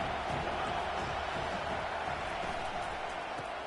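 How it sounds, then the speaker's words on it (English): Dense, steady roar of a packed stadium crowd at a Tennessee vs Michigan college football game, a loud, continuous wash of cheering voices with no breaks from start to finish. "This crowd, full throat, spreading the eardrums and letting them know it's going to be a long day"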